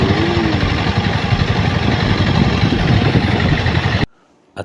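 A water pump engine draws water from a deep well, running as a steady loud mechanical drone that stops abruptly near the end.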